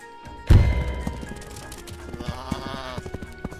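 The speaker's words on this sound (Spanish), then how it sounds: "Supongo que es una oveja" Sheep from the video game Wargroove, heard amid game audio with a sharp thump, trotting clip-clop sounds and a bleating cry over a busy musical background.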